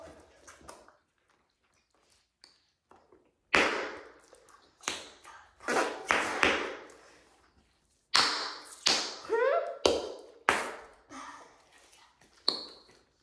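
Several kids popping bubbles of Bazooka bubble gum as loudly as they can, a series of sharp, close smacking pops in uneven bursts with brief quiet gaps and a little faint voice between them.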